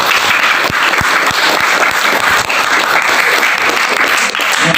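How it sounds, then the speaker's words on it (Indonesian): Loud, dense applause from a school audience at an Indonesian Independence Day religious talk, steady and sustained with no voices rising above it. "Tepuk tangan."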